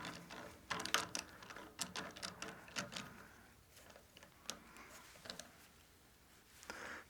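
Ratcheting clicks and metallic clatter as a chuck key snugs down the pinion gears of a 4-jaw lathe chuck, arriving in irregular bursts of sharp, close ticks that fade toward a quieter stretch before a final click.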